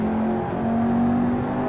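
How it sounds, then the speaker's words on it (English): A 1987 Pontiac Trans Am GTA in Assetto Corsa accelerating with a steady, droning engine tone that holds a constant pitch, loud and close throughout with no talk. "The looks are great, but the accelerating is not the best."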